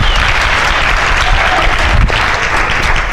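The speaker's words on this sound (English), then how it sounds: "I want a big round of applause for Brandi." A live audience at a workshop intensive bursts into sustained, loud, dense applause, many hands clapping steadily throughout without a break.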